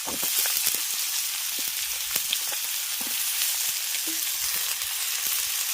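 Cut potato pieces tossed into oil with fried garlic, onion and green chilli give off a constant close sizzle, dotted with sharp pops and a few light clicks of utensils, without any talking.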